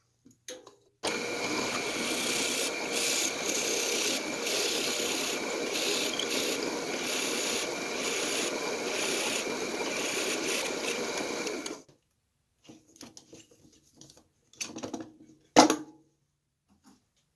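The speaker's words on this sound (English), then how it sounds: "Going to be spinning it at about 800 RPM. It will cut a nice smooth hole with a flat bottom." A Forstner bit spins at about 800 RPM in a drill press, boring a flat-bottomed hole into a candlestick. The steady close whirring grind runs for about ten seconds, then stops, and a few faint clicks and handling knocks follow.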